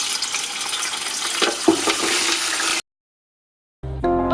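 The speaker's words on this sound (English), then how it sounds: "I'm now going to fry the oxtail in this oil" Oxtail fries in hot oil with a dense, continuous sizzle and crackle, loud and close, which cuts off abruptly into silence before resuming briefly at the end.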